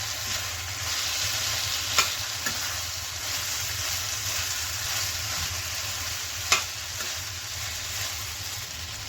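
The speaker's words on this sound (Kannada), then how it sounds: "ಹಾಗೆ ತೆಗೆದಿಟ್ಕೊಂಡಿದ್ನಲ್ಲ ತೆಂಗಿನಕಾಯಿ ಅದನ್ನು ಇದ್ರ ಜೊತೆಗೆ ಸೇರಿಸ್ಕೊಂಡು ಚೆನ್ನಾಗಿ ಬಾಡಿಸ್ಕೊಳ್ಳೋಣ" Cashews and grated coconut sautéing in a pan for an egg masala gravy, a steady close sizzle with occasional faint scrapes of a spoon stirring, continuous and without voices.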